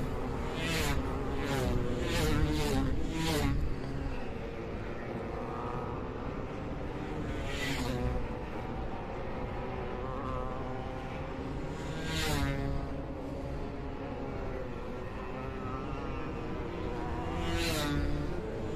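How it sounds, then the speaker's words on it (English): Two-stroke flat track motorcycles race past on a dirt oval, a steady droning engine whine with repeated brief high-pitched passes as bikes scream by, continuous throughout with no talk. "Those things sound good out there, the two-strokers."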